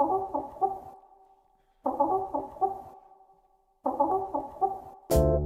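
Chicken clucking sample looped in a music track, recorded with noticeable background noise, heard as three repeated bursts of clucks and squawks separated by pauses, ending in a sudden loud tonal hit.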